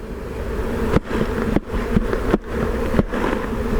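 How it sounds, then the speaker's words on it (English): A dense, steady buzz of many honey bees in a hive box fills the clip, loud and close, broken by a few sharp knocks as the box is bumped. "Now you see my box of bees."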